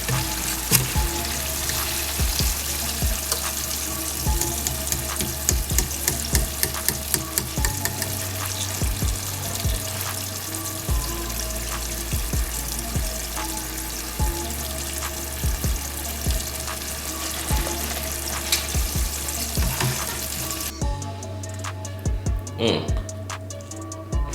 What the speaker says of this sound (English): we're gonna cook the shrimp for about 2 minutes